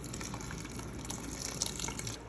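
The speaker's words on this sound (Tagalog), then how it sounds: "at add ko na siya ng water" Water poured into a pot of rice and grape leaves, a steady splashing pour running close and moderately loud throughout.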